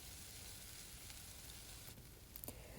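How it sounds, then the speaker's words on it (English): Chicken pie filling with a spoonful of tomato paste sizzles softly in a pan as it is stirred, a faint steady crackle with a few light scrapes near the end. "So I'm going to give this a nice stir"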